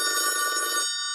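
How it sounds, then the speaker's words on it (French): A bright electronic telephone bell rings in one short burst, then cuts off abruptly with a faint decaying tail. "Il ne faut pas décrocher, Marty!"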